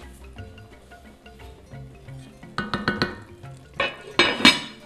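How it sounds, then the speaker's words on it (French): A lid goes back onto a cooking pot of kitchari: after quiet stirring, a cluster of metallic clinks and clatters rings out close by, then a second burst of rattling contact near the end. "Remettre le couvercle."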